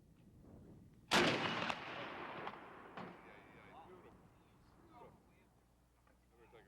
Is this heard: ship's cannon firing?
yes